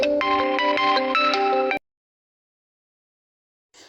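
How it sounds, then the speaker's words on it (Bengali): A phone ringtone plays a bright, repeating electronic melody for nearly two seconds, then cuts off abruptly into silence, with a faint noise near the end. "কিরে হঠাৎ করে ফোন এলো"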